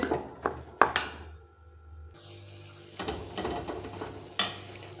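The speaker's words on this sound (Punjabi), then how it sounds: "ਚੰਗੀ ਤਰ੍ਹਾਂ ਮਿਕਸ ਕਰਾਂਗੇ ਜੀ ਆਟੇ ਨੂੰ ਖੋਏ ਦੇ ਵਿੱਚ" Metal utensil scrapes and clanks against a pan while flour is stirred into khoya, with a few sharp knocks and a dry scraping texture at close range, and no speech.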